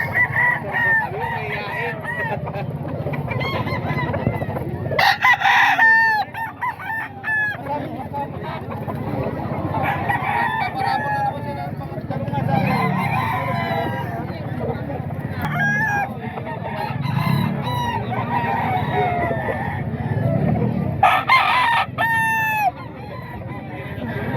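Roosters crow repeatedly and chickens cluck at a market stall where fowl are being sold, with several loud crows rising above a dense, constant flock chatter and faint talk now and then.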